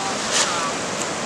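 Big ocean waves at a seawall in Parepare give a steady, broad roar of surf mixed with wind buffeting the microphone, with faint voices underneath.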